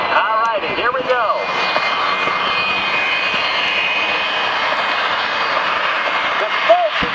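An A-10 jet flying low at an air show at Davis-Monthan AFB in Tucson: a loud, steady roar of jet engine that fills the whole stretch, with a brief whistling whine near the start and again near the end.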